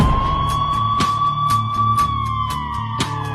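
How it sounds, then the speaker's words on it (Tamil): Wailing emergency siren from an ambulance in a street, a steady loud rising-and-falling tone with short repeated bursts cutting through, no voices on top. "ஆம்புலன்ஸ் போட்டு ஆம்புலன்ஸ் வழி விட்டுருங்கப்பா."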